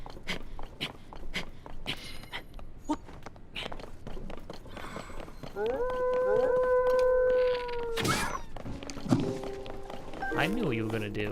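Wolves howling in the video game Zelda: Tears of the Kingdom, several long sustained howls rising and overlapping, preceded by quick padding footsteps, with someone talking throughout.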